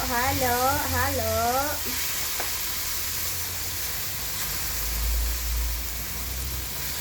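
Vegetables for Ilocano pinakbet sizzle and get stirred in a pan, a constant moderate hiss with a few scraping stirs, while a voice or tonal sound briefly rises over it at the start.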